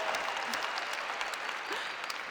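A crowd applauds continuously and evenly throughout, a dense wash of clapping in a presentation hall with no talk over it.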